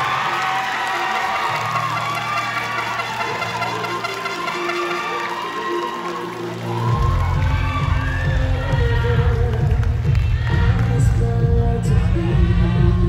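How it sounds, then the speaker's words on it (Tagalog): A beauty pageant audience cheering and applauding continuously, a loud crowd roar with shouts that surges and thickens midway through, a low hum underneath. "Tuloy-tuloy na hiyawan at palakpakan"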